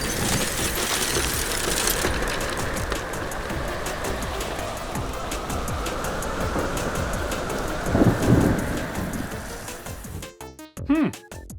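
Thunderstorm sound effect with dense, steady rain hiss and a low rumble of thunder swelling briefly near the end, continuous and loud, cut off abruptly by a few other sounds.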